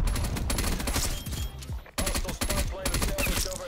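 KSP 45 submachine gun in Call of Duty Cold War firing in loud rapid bursts, a fast rattling stream of shots broken by a short pause before the next burst resumes.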